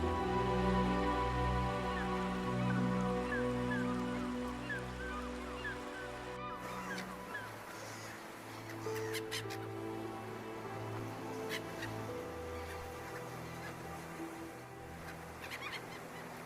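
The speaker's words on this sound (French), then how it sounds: "Oies des neiges, bernaches cravants et bernaches du Canada peuplent les marais, broutant herbes et joncs." Snow geese, brant and Canada geese honk in an Arctic marsh, a chorus of repeated calls that is dense at first and thins into scattered honks, moderately distant, with no voices.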